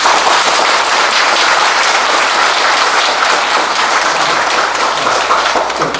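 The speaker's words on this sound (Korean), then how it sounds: "좀처럼 듣기 어려운 귀한 법문을 해주시니 큰 박수로." A Buddhist dharma talk audience breaks into loud, sustained applause, dense hand clapping filling the hall evenly for the whole stretch with no voices over it.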